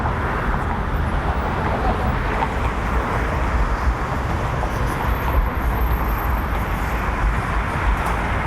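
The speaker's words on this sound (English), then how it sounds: "I can only apologize for all the traffic noise" Dense, continuous traffic rumble and road roar fill the air near the Brooklyn Bridge on the Manhattan side around Park Row, with steady engines and tyre noise and no pauses.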